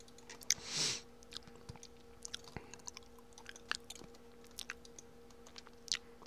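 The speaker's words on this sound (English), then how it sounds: "if you hear me chewing, I'm sorry" Someone chewing food quietly while eating at a computer, with soft, irregular wet crunches and light clicks spread through a quiet room.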